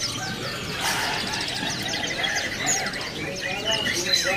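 Pleci (white-eye) birds chirp in quick, high twittering bursts, several calls overlapping at moderate distance amid a busy bird market backdrop with faint voices.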